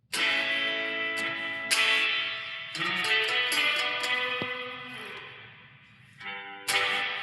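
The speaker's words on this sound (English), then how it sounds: "you can't hear the bass note," Sustained notes through a bass amp wash out into heavy, splashy spring reverb, each attack blooming and ringing on without a clear low note.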